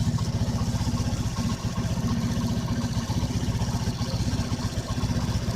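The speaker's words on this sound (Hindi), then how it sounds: "तो माइलेज सेट करने के लिए सबसे पहले हम बाइक को स्टार्ट करेंगे" A motorcycle engine idles steadily up close, its low rapid chugging pulse even and continuous throughout.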